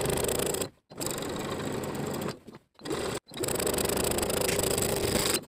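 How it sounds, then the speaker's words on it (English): A sewing machine understitches bias tape to its seam allowance on a shirt, running in loud, steady bursts with three brief pauses between runs and no voices. "we're going to understitch the bias tape, sewing it to its seam allowance underneath with a 1/16 seam allowance"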